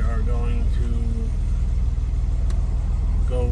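A 1969 Mercedes-Benz 280 SL roadster's engine runs at a steady idle, a constant low rumble close by, with a voice talking over it at the start and end.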